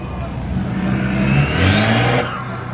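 A supercharged car engine, probably a 5-litre, revs at a car meet at B&Q Cannock, with a rising whine as the revs climb and then drop, loud and close amid a noisy outdoor crowd.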